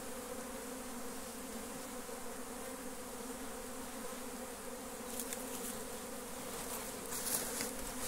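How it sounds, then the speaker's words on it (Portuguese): A swarm of Apis honey bees buzzes steadily around a cabiúna tree stump, a dense, close, continuous drone with a few sharper hums near individual bees toward the end, no talking. "Muita abelha, né?"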